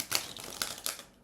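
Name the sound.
shuffling tarot cards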